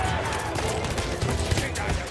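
Gunfire from the Battlefield 1 campaign plays as a dense, continuous wash of shots and rumbling battle noise with no clear gaps, loud and close throughout.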